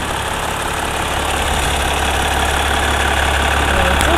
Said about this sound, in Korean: 엔진 소리 역시도 매우 일정합니다.